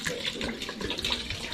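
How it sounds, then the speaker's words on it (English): Cold water pours from a kitchen tap over cooked noodles draining in a sink, a steady close splashing and hissing stream throughout the brief moment, with no talk. "We're just gonna pour this cold water over here, and then we're gonna let the noodles just drain in the sink naturally."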